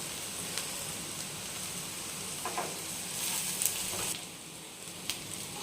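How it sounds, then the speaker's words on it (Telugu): Ivy gourd (tindora) pieces fry in oil in a pan, a soft steady sizzle with occasional faint stirring scrapes, heard quietly with no one speaking. "బ్రౌన్గా బాగా వేగిపోయినాయి, బాగా ఉడికిపోయినాయి కూడా."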